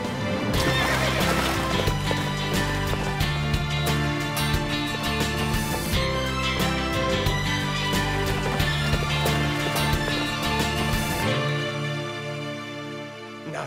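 On an animated ranch, a horse whinnies loudly over steady clip-clopping hooves, with a full, continuous bed of sound behind it that drops away near the end.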